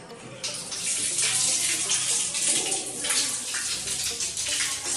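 Water gushing steadily from an outlet just after a new water heater is installed, a loud continuous hissing splash that runs close and uninterrupted throughout.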